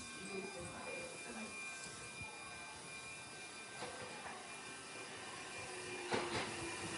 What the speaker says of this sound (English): Okay, here comes my train.